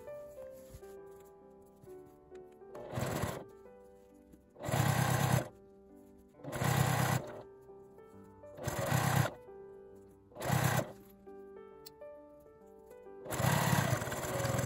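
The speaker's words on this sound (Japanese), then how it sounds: "開いてさっきと同じように表側から端ミシンをかけます。" A sewing machine runs in repeated short bursts, edge-stitching fabric for a coin-through wallet bag, each run a few seconds long with quiet pauses between, close and moderately loud.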